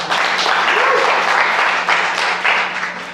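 Applause from a church congregation during a Sunday worship service, a loud, dense burst of clapping that swells in waves and tapers slightly toward the end.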